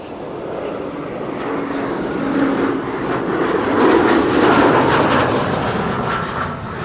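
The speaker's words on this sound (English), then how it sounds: "This is a number 190 Britty Hopper arriving from Leeds." KLM Cityhopper Embraer 190 arriving at Amsterdam Schiphol, its jet engine roar swelling steadily louder toward the middle before easing slightly, close and continuous with no talking.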